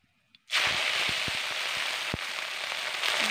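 Gima greens hit hot oil with a sudden loud burst of sizzling that continues steadily and close, with scattered pops and crackles.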